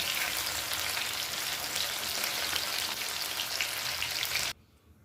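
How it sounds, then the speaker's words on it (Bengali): Chicken pieces browning in hot oil, a dense, continuous crackling sizzle close up that cuts off abruptly near the end. "ফ্রাই হয়ে গেছে, ব্রাউন কালার ধরে আসছে।"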